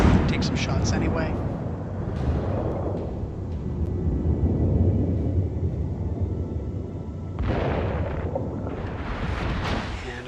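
Heavy main battery gunfire from warships in World of Warships, with a battleship such as the North Carolina trading shots near an island; repeated booming blasts and rumbling over a dense low roar, with a voice talking throughout.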